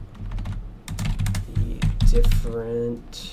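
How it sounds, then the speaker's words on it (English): Loud clacking computer keyboard typing in quick irregular bursts of key strikes, close to the microphone, with a voice talking over it. "the keyboard is going to be loud while I'm typing"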